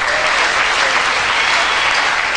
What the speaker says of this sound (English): Please clap for this God very well.